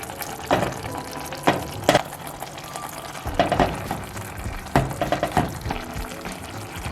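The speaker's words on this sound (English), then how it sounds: "I'm going to add my fish." Fish, snapper for Jamaican brown stew, added to a pan of softened vegetables, giving a steady moderate sizzle and frying crackle with intermittent clatter and stirring knocks, no voices.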